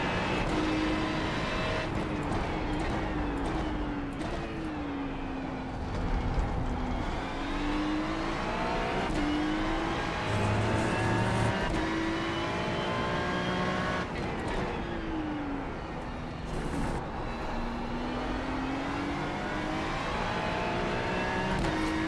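A Ferrari 296 GT3 race car engine drives hard through a night race at Daytona in iRacing, its revs climbing steadily and dropping back across repeated gear changes, loud and continuous with no talking.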